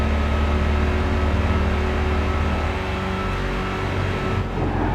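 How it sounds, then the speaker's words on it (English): A Mercedes racing car engine in Gran Turismo 5 drones loudly and steadily at high revs for several seconds, holding a constant buzzing tone with only slight changes in pitch. "Man, this car sounds pretty epic."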